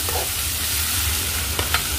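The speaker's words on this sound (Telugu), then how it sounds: "అలాగే 2 పచ్చిమిర్చి వేసి కలుపుకోవాలి." Chopped onions and two green chillies stirred in a hot frying pan, giving a steady close sizzle with a few scraping strokes of the spoon near the end.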